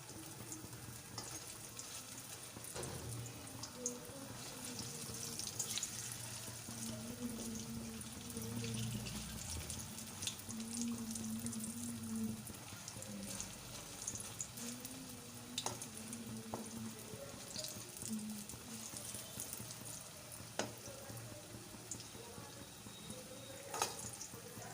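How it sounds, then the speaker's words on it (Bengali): Raw green banana balls fry steadily in hot oil in a pan, a soft continuous sizzle with faint scrapes and clinks as they are turned, close and quiet with no talking. "যেহেতু আমার এক পিঠ ভাজা হয়ে গেছে।"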